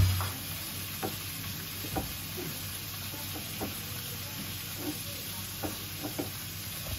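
Onions fry in a pan with a steady, close sizzling hiss, broken by intermittent scraping stir strokes spread across the whole stretch; no one speaks.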